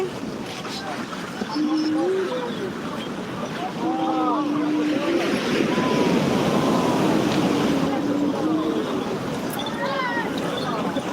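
Steady rush of surf and wind across the whole stretch at Digha beach during Cyclone Remal, with voices talking over the roar of the waves.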